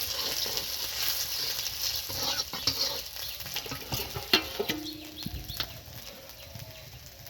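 Cumin, bay leaf, dry chili and ginger crackle and hiss in hot oil for a Bengali fish curry, a dense close sizzle with scattered spitting pops that eases slightly toward the end.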